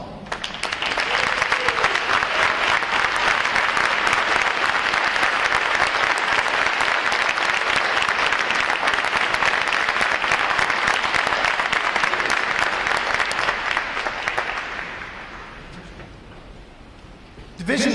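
A large crowd at a boot camp graduation gives veterans sustained, dense applause for about fourteen seconds, then fades to quieter scattered clapping.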